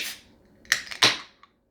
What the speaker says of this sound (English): let's crack this bad boy open here